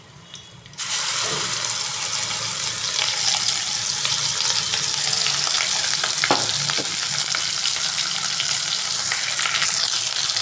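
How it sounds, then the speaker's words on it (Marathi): Onion paste frying in hot oil in a home kitchen pan: a loud, steady sizzle starts abruptly after a quiet moment and holds through the rest, with a few faint clinks of stirring and no talking. "चिवडी आपल्याला चांगली तेल सुटपर्यंत आपण तेलामध्ये परतून द्यायचं आहे"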